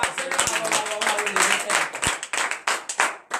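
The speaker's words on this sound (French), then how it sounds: "donnez de vives acclamations" A church congregation claps in rapid, uneven bursts during a morning prayer service, the applause fairly close, mixed with a voice speaking over it.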